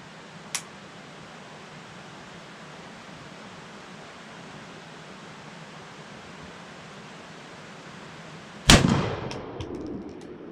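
A War Wolf Ordnance 10 gauge shotgun loaded with 2-1/2 oz nickel plated lead BB shot fires once from a rest, a single sharp, very loud blast with a ringing decay after steady quiet background hiss.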